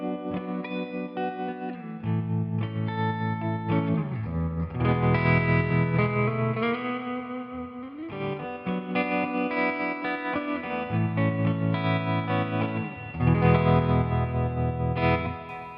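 Electric guitar played through a NUX Cerberus pedal on its clean amp model, with big reverb and tremolo, strummed chords ringing out full and sustained, changing every couple of seconds, loud and alone.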